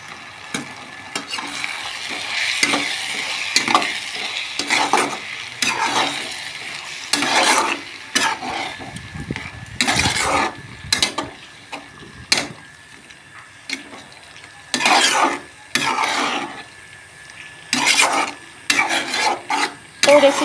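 A vegetarian dish sizzles in a pan while a spatula scrapes and stirs in repeated rasping strokes, close and fairly loud, with steady frying underneath.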